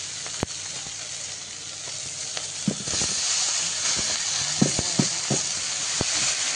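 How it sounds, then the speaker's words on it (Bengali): Crabs frying in a pan give a steady broadband sizzle, with occasional soft clinks and stirring taps throughout and no voices. "কাঁকড়াগুলো দিয়ে দিলাম, আর এবার ভেজে নেব একটু ভালোভাবে।"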